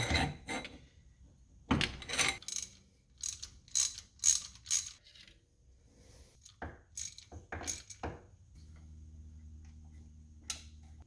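Breaker bar with a swivel socket turning a spark plug on a 1983 Buick Regal engine: repeated ratcheting and metallic clicking bursts in uneven strokes, close up, with a steady low hum in the last few seconds.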